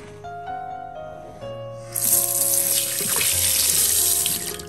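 Water running from a hot and cold tap in a mountain village house, starting after a quiet stretch with faint hum and then gushing steadily and loudly into a sink.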